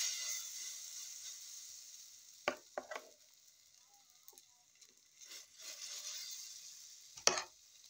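Batter of oats, banana and milk sizzles steadily in hot oil in a pan, a faint continuous frying hiss broken by a few sharp utensil clicks and scrapes.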